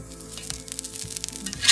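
Vegetable patties of cauliflower, kale and quinoa sizzle steadily on a cast iron griddle as they are flipped, a close, continuous frying hiss with small crackles and a brief louder burst at the end.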